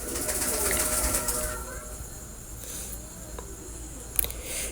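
Pakistani flying pigeons coo in low, rolling calls, fairly close, over a noisy background, stronger at the start and then continuing more softly, with a brief sharp knock near the end.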